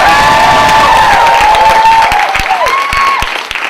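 Loud audience applause and cheering, close and dense, with whoops and shouts rising above the clapping before it starts to fade.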